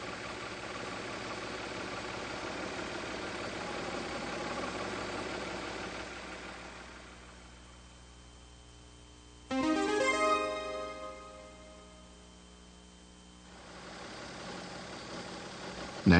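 Mazda MX-3 engine idling in a workshop during an ignition timing and idle speed check, a steady low hum that dips quieter midway, with a brief louder tonal burst near the middle before settling again.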